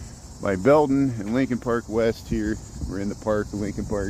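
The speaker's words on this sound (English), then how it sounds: "We'll head, and hear the cicadas there." Cicadas buzz in a steady, high, continuous drone through a park in Chicago, running under a man's close, continuous talk.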